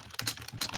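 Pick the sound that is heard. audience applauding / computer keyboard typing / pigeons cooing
computer keyboard typing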